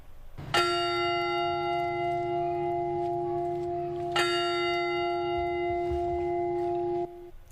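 A church bell rings clearly twice, several seconds apart, tolling at a memorial ceremony, each stroke ringing out in a long, slowly fading hum.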